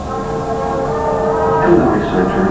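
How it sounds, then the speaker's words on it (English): Ore trains at the Scully iron ore mine in Labrador West give a loud, steady low rumble and rolling drone, with a narrator talking over it. "or the busy trains."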